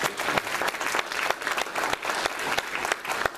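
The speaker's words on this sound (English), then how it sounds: "A round of applause for her." A room of attendees at an Elks lodge forum on Common Core gives sustained applause, a dense crackle of many hands with a few sharper individual claps standing out.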